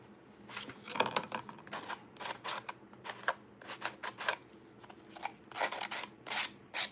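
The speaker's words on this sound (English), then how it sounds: "Just sanding off the edge a little." Repeated scratchy rasping strokes of sandpaper against the edge of a craft piece, steady back-and-forth rhythm, close and moderately loud with no talking.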